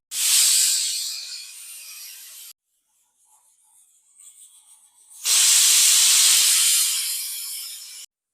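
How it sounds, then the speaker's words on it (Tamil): Steam hisses loudly from a pressure cooker whistle while ghee rice cooks over a medium gas flame, in two long bursts of about two and a half seconds each, separated by a quieter gap of faint sputtering. "குக்கர் 2 சவுண்டு வந்துருச்சு"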